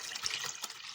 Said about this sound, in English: I'm just going to pour water in here